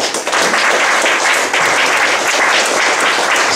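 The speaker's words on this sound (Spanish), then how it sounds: "Denle un aplauso." Church congregation breaks into loud, sustained applause during a sermon, a dense, continuous roar of many hands clapping.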